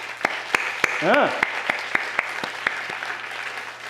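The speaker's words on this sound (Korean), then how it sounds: "박수 한번 칩시다." Listeners at a 2014 campus Fashion Night sermon gathering clap sparsely. Distinct individual claps at a fairly regular pace are joined by a brief rising and falling vocal sound partway through.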